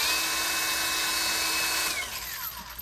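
A cordless brushless screwdriver motor whirs at high speed, steady and close, then winds down as the trigger is released near the end; no talking over it.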